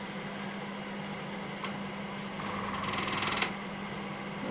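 An airbrush hisses in short bursts while weathering a model railway wagon with paint, a faint steady background whir broken by a few brief sprays and one longer hissing pass.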